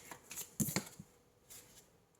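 Tarot cards being shuffled and drawn at a reading: a few quiet, close papery flicks and slides in brief bursts, soft and sparse, with no talk.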